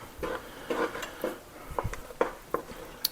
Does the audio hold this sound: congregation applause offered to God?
no